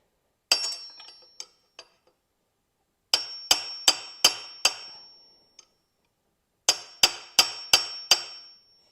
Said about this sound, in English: I've just got a lawn breaker bar here and a hammer, and I'm just going to smack it.